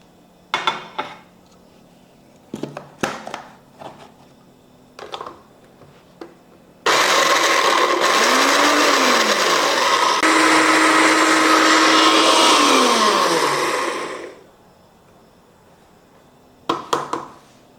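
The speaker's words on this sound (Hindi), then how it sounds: "अब हम इसमें ये लाल मिर्च डाल के ये पीस लेंगे।" A kitchen blender grinds dried red chillies into tandoori masala powder, a loud steady whir lasting about seven seconds with a pitch that dips and rises, framed by clattering lid and jar handling before and after.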